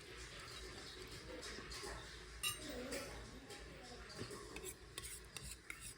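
Sweet potato halwa is stirred in a tiny miniature pan, producing quiet, close scraping and rubbing with light metallic clinks, while a voice talks softly in the background.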